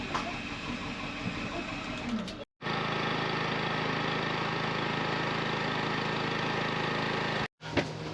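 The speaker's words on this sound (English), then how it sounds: "If you hold stop, it also primes your generator before it starts." Camper van generator priming, then cranking and running as a steady close engine drone, briefly cutting out twice before resuming, with no talk over it.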